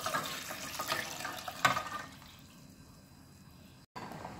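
Coconut milk poured into a pan of shrimp curry with vegetables and green bell pepper, a soft liquid splash and trickle for about two seconds that then fades to quiet.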